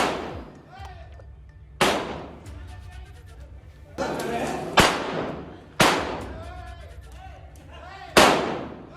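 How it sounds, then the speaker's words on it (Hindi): Loud gunshots from a pistol and revolver fired one after another in celebration, five sharp cracks spaced about two seconds apart, each trailing off into echo, with background voices murmuring between them. "आप देख सकते हैं एक के बाद एक पिस्टल से, रिवॉल्वर से ये युवक फायर कर रहा है"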